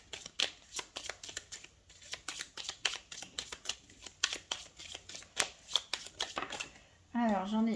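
Tzigane oracle cards shuffled by hand, a rapid run of crisp riffling and slapping card bursts in an uneven rhythm, close up, ending with a brief voice at the very end.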